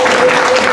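A church congregation breaks into dense, steady applause of glory, a full wash of clapping hands with a thin sustained musical tone running underneath.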